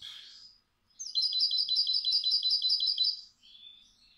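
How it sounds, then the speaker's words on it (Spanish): A European goldfinch sings a bright, rapid run of high twittering notes for about two seconds, clear and close, with softer chirps before and after. "De un jilguero mío que suena"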